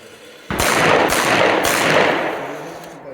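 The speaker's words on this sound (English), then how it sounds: "you'll draw your gun, turn and fire" Handgun fire during a tactical moving-threats drill: three quick, sharp shots in close succession, loud and near, with ringing decay.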